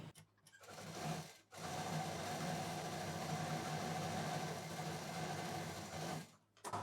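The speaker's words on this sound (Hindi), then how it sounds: "तो इसको हम यहाँ पर डबल मशीन चलाते हुए पूरा इसको सिल देंगे।" A sewing machine runs steadily, double-stitching fabric for a traditional potli bag, with a continuous close mechanical whir that pauses briefly near the start and again at the end.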